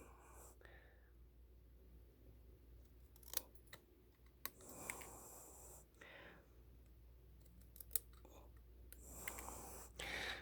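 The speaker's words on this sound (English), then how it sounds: "I'm going to take my Details Pro shears and clip in like a little tail here" Details Pro shears clip a small tail into a paper card piece, a few quiet, separate snips and clicks close by, with soft whispered talk in a hushed room.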